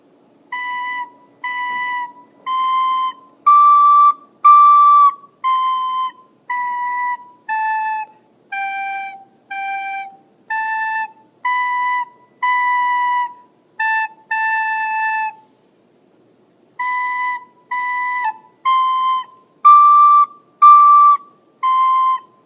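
Soprano recorder plays Hot Cross Buns, a simple tune of short separate notes in a steady rhythm, with one brief pause partway through; the playing is close, clear and unaccompanied.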